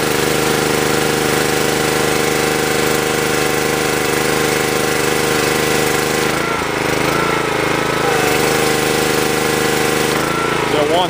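Steady, loud engine drone from a Karcher pressure washer running under load, an unbroken close mechanical hum with a brief dip partway through.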